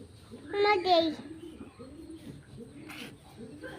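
A pigeon chick gives a few soft, high chirping calls up close, then quieter peeps follow over faint background noise.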